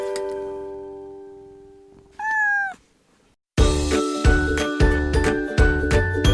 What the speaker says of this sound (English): K is for kitten.